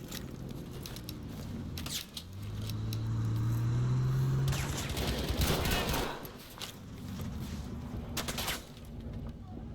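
Gunfire in the Battlefield V alpha during an objective fight: bursts of shots and rattling fire mixed with game noise and a rumbling vehicle-like drone, moderately loud, with players talking over it.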